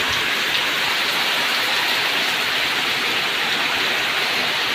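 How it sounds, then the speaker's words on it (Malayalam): Heavy rain driven by strong wind, with blowing water spray, a dense unbroken roar that fills the whole stretch at close range, with no voices. "ഇവിടെ നിൽക്കാൻ പറ്റത്തില്ല, അതുപോലെ കാറ്റാണ്. എരിച്ചിലടിക്കുന്നുണ്ട് വെള്ളത്തിൻ്റെ."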